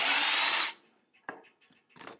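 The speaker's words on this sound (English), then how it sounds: "use the rest of the tubing as a handle and drill you a hole" A power drill boring a hole through copper tubing for a homemade battery terminal, loud steady whine for under a second that stops abruptly, followed by a few faint clicks and handling noises.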